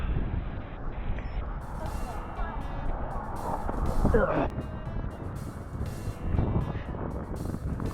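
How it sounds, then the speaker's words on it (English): Strong wind buffets the microphone of a bicycle speeding down a steep grade, a heavy, roaring rumble that swells and eases throughout, with faint voices underneath. "it is so windy"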